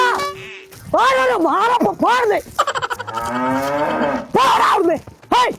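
Loud, drawn-out mooing, several calls one after another up close, with rising and falling groans. A voice may be imitating the sounds.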